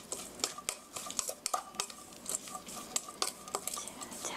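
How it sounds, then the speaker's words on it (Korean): Hash brown ingredients stirred and mixed in a bowl with a utensil, giving quick irregular scrapes and light clinks against the bowl, near and fairly quiet, with no voice. "이렇게 고루 잘 섞이도록 섞어주시고요"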